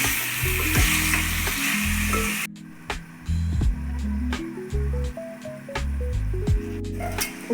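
Country chicken meat frying in a pan for a spicy curry, with a loud steady sizzle and repeated stirring scrapes. Musical tones sound throughout.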